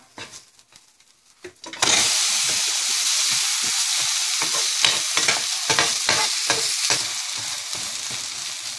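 A dosa fries in sesame oil on a hot pan. After a few soft clinks, a loud, steady sizzle starts and continues, with light scraping from a spatula running through it.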